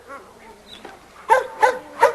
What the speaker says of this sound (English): This dog right here is a dog that we call Reno.